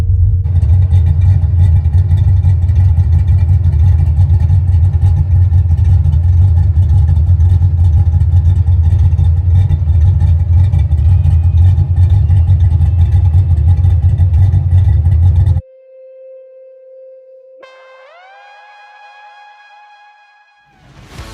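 A 1990 Foxbody Mustang GT V8 with a Pertronix Flame-Thrower ignition module runs loud and close with a steady rumble, then cuts back sharply to a lighter idle before several quick rising revs near the end.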